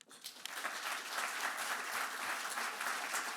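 An audience at a Bay Area–Silicon Valley summit applauds to welcome speakers to the stage. The sustained round of clapping starts abruptly and stays full and even to the end, with no talking over it.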